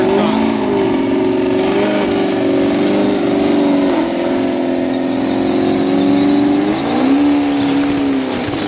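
A turbo four-cylinder car at a drag strip test-and-tune session, its engine droning and squealing at a steady high pitch, with a brief surge near the end, heard from a distance under crowd noise.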